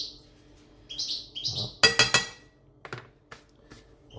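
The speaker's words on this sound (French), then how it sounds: "vous attendez un oiseau chanter. Ben, c'est mon oiseau" A pet bird singing in a home kitchen, giving a few short high chirps, then a brief close burst of sharp metallic clinks from pots or utensils, followed by softer knocks and one brief spoken word.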